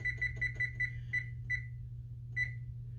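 Oven timer being set, giving a quick series of short electronic beeps followed by a couple of spaced single beeps, close and fairly quiet over a low steady hum.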